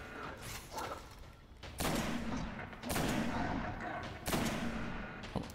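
Sniper fire in the video game Destiny: several sharp booming shots spaced about a second apart, each with a ringing tail over a low game backdrop.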